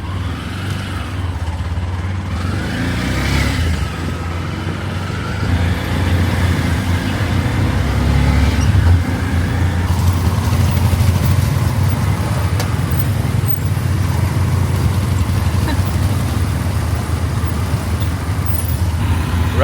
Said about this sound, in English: and we're off in the tuk-tuk